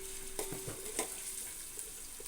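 Prawns fry quietly in oil for a biryani, giving a soft, steady sizzle. A few light clicks and stirring knocks come from the pan.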